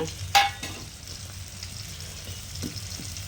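Chana dal and urad dal fry in oil beside onions in a pan for lemon rice, giving a soft, fairly quiet sizzle with a brief metallic utensil clink near the start.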